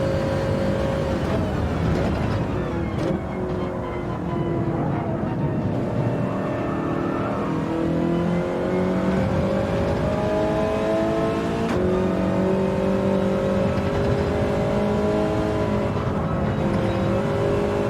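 Toyota Trophy race cars lap Deep Forest Raceway in Gran Turismo 7 on PS5, with a loud, continuous engine drone that rises and falls through gear changes as nearby cars rev and whir past.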